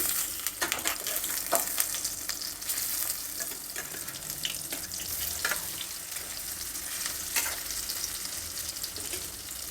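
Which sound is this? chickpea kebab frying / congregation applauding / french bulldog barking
chickpea kebab frying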